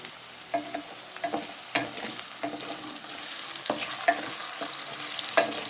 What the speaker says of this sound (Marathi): फ्राय केल्यामुळे भाज्या एकदम चवदार लागतात।